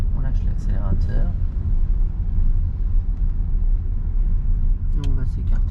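A car engine idles down as the driver lifts off the accelerator during a driving lesson, a low steady rumble heard under a man's speech at the start and end.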